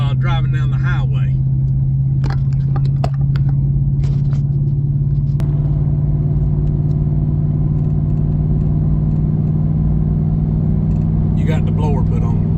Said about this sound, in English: I want to show a little bit driving down the highway